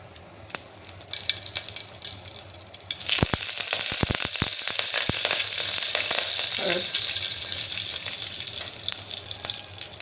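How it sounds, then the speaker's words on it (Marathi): Cumin seeds and curry leaves hit hot oil for a tempering, bursting into a loud sustained sizzle after a few sharp crackles, with clattering as they are stirred. "जिरं तडले त्यामध्ये घालायचं कढीपत्ता"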